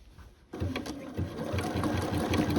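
A sewing machine stitches a zigzag to couch decorative yarn onto a quilt, starting after a brief pause and then running as a close, steady rapid rattle.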